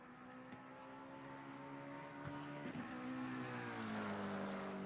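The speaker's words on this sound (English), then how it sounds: "That roar in that car sounds awesome" McLaren race car engine in a racing video game, a loud sustained roar with steady harmonic drone, rising and shifting pitch as it revs near the listener.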